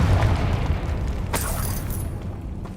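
A Confringo blast spell going off in Hogwarts Legacy, a sharp broadband burst about midway that rings briefly over a steady rumbling game ambience, fairly loud and without speech.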